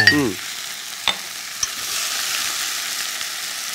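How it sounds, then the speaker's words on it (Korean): Food stir-fries in a pan with chili oil for a spicy gochujang potato stew: a steady, close sizzle with a few sharp clicks from stirring, and no talk. "살짝 볶는 거예요"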